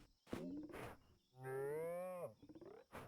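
Cows moo in the farming video game Fields of Mistria, one long, clear, drawn-out moo framed by shorter bovine calls, all close and alone against faint insect chirping.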